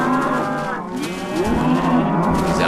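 A cow moos in the Minecraft video game, with one long, loud, drawn-out low call and a second moo following close behind, heard alone with no talk.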